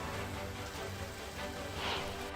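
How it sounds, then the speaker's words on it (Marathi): Heavy monsoon rain pours down in Dapoli, Ratnagiri, flooding the town market: a steady, dense hiss of rainfall that holds at an even level throughout, with no voices. "रत्नागिरीच्या दापोलीमध्ये मुसळधार पावसाने हजेरी लावली"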